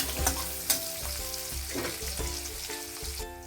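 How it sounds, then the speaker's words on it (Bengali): Crushed garlic frying in a pan until light brown for a mixed vegetable dish, a soft steady sizzle with occasional stirring scrapes, alone and moderately close. "থেতো করে রেখেছি যে রসুনগুলো এগুলো দিয়ে দেবো দিয়ে হালকা ব্রাউন করে ভেজে নেবো"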